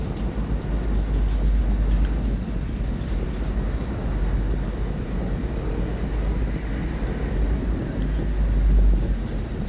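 A motorcycle speeds along a wide road in Manila, a steady broad engine and wind roar heard from the rider's position, loud and continuous with surrounding traffic noise.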